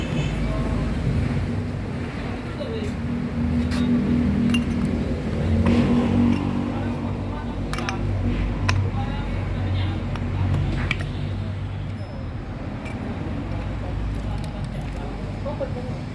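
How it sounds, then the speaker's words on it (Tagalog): The starter on a Fuso 4D30 truck engine, with a burnt component, clicks repeatedly without cranking, sharp faint ticks spread across a steady low background hum while someone talks throughout. "Yung starter ito, 4D30. Lalagitik lang."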